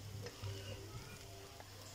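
Fried eggs being stirred into egg biryani in a pan, a low continuous sizzle with soft scraping stirs and occasional light clinks, quiet and close, no talk.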